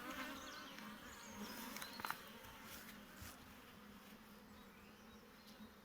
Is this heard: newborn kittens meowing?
no